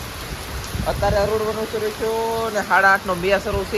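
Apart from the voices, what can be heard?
heavy rain with wind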